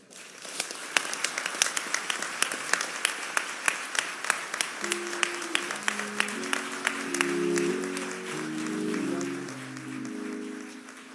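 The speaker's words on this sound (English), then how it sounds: "please give his family another round of applause" Audience applause at a memorial service in Minneapolis: a large crowd claps steadily, dense and sustained, while a voice speaks over the latter half.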